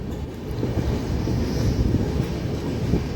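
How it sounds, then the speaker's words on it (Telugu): Coromandel Express crossing at a station platform, a loud continuous roar and clatter of passing coaches, steady and close throughout. "ఇప్పుడు అటు నుంచి ట్రైన్ క్రాసింగ్ అవుద్ది మనకి కోరోమండల్."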